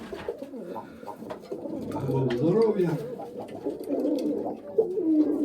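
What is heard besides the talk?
Mykolaiv pigeons cooing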